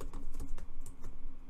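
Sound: typing on a computer keyboard

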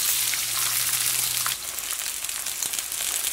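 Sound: ivy gourd added to hot oil, frying

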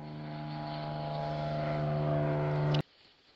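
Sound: airplane flying overhead

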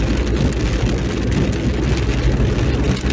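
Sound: rain falling

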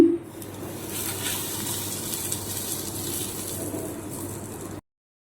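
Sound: hot oil poured over kasuri methi, sizzling

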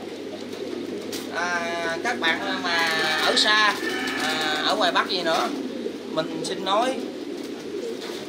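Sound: pigeons cooing in a Thai-style pigeon farm

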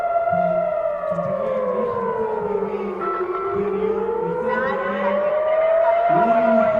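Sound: rocket warning sirens

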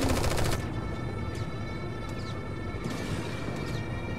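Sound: gunfire in video game Strain Tactics

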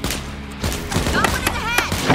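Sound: gunfire in The Walking Dead video game

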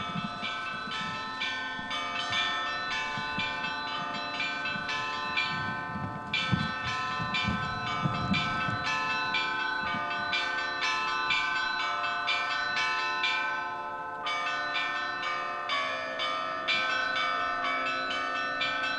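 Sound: Easter church bell ringing (trezvon), Orthodox cathedral

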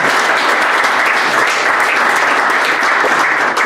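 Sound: audience applause

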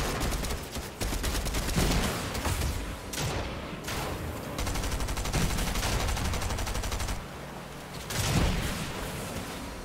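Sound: gunfire in a video game

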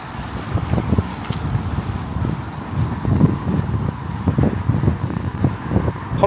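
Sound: wind

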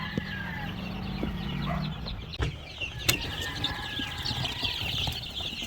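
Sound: game fowl crosses, chickens

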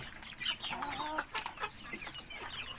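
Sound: chickens clucking

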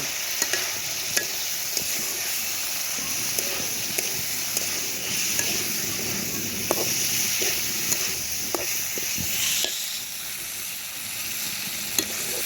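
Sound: fried meat stirred into spiced masala in pan

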